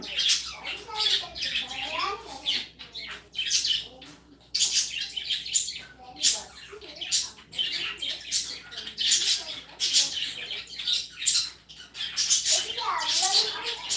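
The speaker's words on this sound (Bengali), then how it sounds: "আমার ঘরে রয়েছে এক গাড়া এক গুচ্ছ পাখি তো সেই পাখির আওয়াজ তোমরা শুনতে পাবে সারাক্ষণ" Pet birds squawk and chirp in rapid, overlapping bursts inside a house, fairly close and loud, calling almost continuously throughout.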